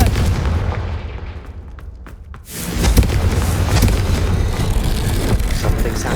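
A Confringo fire spell from Hogwarts Legacy bursts after a brief quiet, a heavy booming blast that swells into a loud, sustained rumble with crackling debris.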